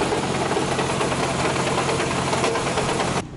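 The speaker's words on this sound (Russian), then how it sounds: "у тебя мотор застучал." RB car engine with a knocking fault runs close and loud, a continuous rough mechanical clatter and vibration that cuts off abruptly at the end.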